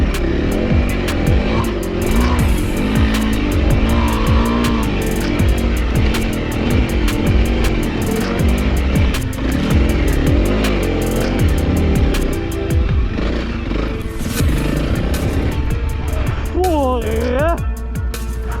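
A Honda CRF300L motorcycle rides hard on a rally track with a continuous loud engine drone that rises and falls with throttle changes, and voices speak over it near the end.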